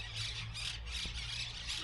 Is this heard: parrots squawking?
yes